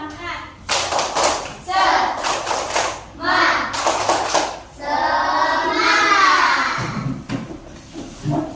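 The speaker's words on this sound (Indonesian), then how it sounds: "Tepuk semangat." Fourth-grade schoolchildren at an elementary school in Tolitoli do a rhythmic spirit clap, loud bursts of group hand clapping in patterned sets between shouted chanting voices, close and energetic.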